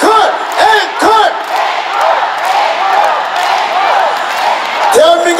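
A concert crowd at a show chants in unison for an encore, loud rhythmic shouted bursts repeating close together, then a longer sustained roar of voices.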